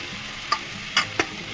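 Potato, radish, peas, capsicum and beans fry in a kadai with a soft, even sizzle, broken by three quick clicks of the spatula against the pan as it stirs.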